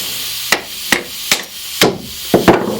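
A chisel struck by a hammer into the wooden hull of a boat near a garboard drain: five or six sharp, loud, evenly spaced blows at close range, the last few slightly quicker, with no voices.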